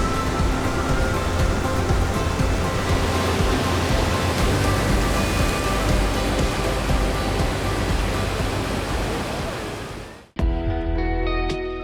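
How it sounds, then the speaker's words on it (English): Tall waterfall at the upper falls in the Canadian Rockies, a steady loud broadband roar of falling water that fills the scene, cutting off abruptly near the end before resuming briefly. "It ends with the viewing spot of the tall waterfall."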